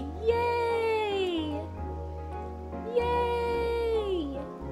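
Two drawn-out, high cat meows from Calico, the cat game, each long and falling in pitch, near and clear, one after the other with a short gap.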